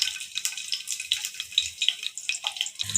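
Three lengthwise-sliced green chillies frying in about three spoons of hot oil in a kadai for chicken curry, a close, bright, crackling sizzle with rapid popping bursts throughout, no talk.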